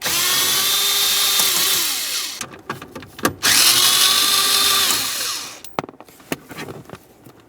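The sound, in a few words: power tool removing 7mm headed bolts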